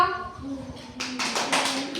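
Children clapping their hands during a colour-learning activity, a brief burst of light claps in the second half following a voice.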